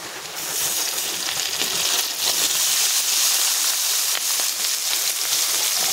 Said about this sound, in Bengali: এবার আমি এখানে দিয়ে দেবো কেটে রাখা পটলের লত আর আলু